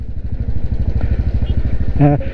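Motorcycle engine chugging steadily at low speed while crossing a suspension bridge on a solo ride to Latarambeshwor Mahadev, close and rhythmic, with a brief voice near the end.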